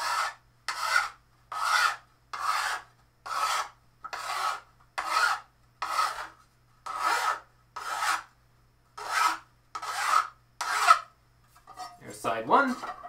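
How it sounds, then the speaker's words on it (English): A hand file rasps along the edge of cosplay armour in about a dozen steady, evenly spaced close strokes, with a brief scrape and handling noise at the end. "The file will do the work. Just sort of slide it gently over the edge until it's nice and clean and very slightly beveled."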